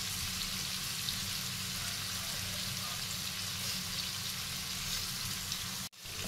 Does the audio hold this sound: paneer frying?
yes